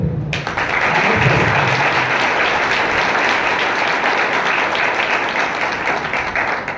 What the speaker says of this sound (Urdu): تالیاں پھر